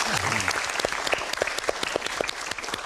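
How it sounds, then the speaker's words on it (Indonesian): An audience applauds a guest at an evening talk show, a moderate, somewhat uneven patter of claps with a few sharp individual hits, a voice briefly audible near the start. "Tepuk tangan buat Bapak"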